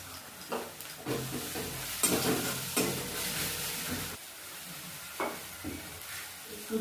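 Ground turmeric, chilli, cumin and coriander are stir-fried in a pan for Bengali chicken curry with a little water. A close sizzle and hiss come with scraping stir strokes in uneven bursts, and there is no talk.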